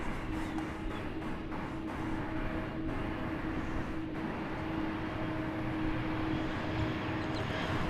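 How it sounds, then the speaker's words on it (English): A Frontier airliner rumbles at DFW Airport with a broad, steady jet roar and low engine drone that holds evenly throughout. "That Frontier plane has Cody and Dakota the Coyotes on its tail"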